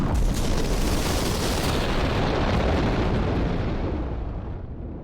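A huge, deep explosion, a sound effect for a supernova, roars and rumbles continuously, then slowly fades as the blast dies away. No voices.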